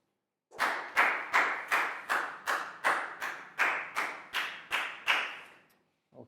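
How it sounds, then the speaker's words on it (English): A Year 4 maths class gives a pupil about a dozen crisp, evenly spaced unison claps, loud and rhythmic, ending in a brief pause. "Big round of applause for Lakgao"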